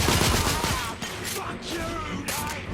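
Heavy, dense gunfire rattles in the video game The Order: 1886, a loud, continuous volley of overlapping shots and bursts that fills the whole moment.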